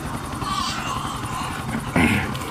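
Helicopter touching down on a helipad in the GTA game The Ballad of Gay Tony, a continuous rotor drone with a brief louder surge near the end, close and steady.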